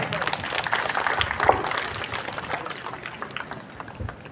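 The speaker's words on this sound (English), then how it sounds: "May we have a round of applause for sir." An audience at an Independence Day celebration at an institute claps steadily in a sustained round of applause, with a faint murmur underneath.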